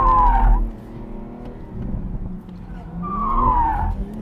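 Toyota GR Supra tires skidding during autocross, two loud squeals at the start and end over a running engine, with voices talking in between.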